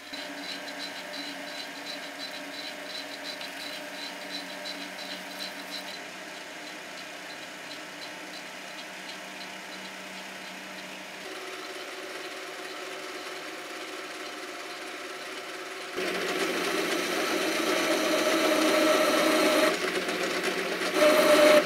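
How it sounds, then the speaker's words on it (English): A small machine tool cuts 42CrMo4 tool steel while making a drawbar, giving a steady mechanical whir with a faint rhythmic ticking that shifts pitch a few times and grows louder and harsher toward the end. "The 42 Chromo 4 tool steel machines quite nicely, even on my small little machine."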